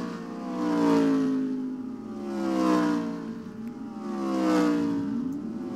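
Race cars in a NASCAR video game race at Darlington, engine drones rising and falling in three smooth pass-by swells, steady and moderately loud with no talk.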